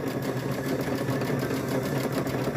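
A sewing machine runs a steady, rapid mechanical stitching rhythm close by as it sews along the seam of a fabric bowl cover, with no voices.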